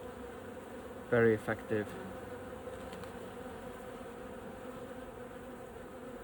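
Bees and wasps buzz at a beehive entrance where guard bees eject raiding wasps, a steady low hum with a few louder close buzzing bursts early on and a brief spoken remark.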